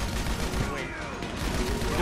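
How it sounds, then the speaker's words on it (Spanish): Rapid .50 calibre machine gun fire in the GTA V video game crackles in dense continuous bursts, loud and close, with someone talking over it. "uno de los camiones que están ahí tiene ametralladoras esas de calibre 50."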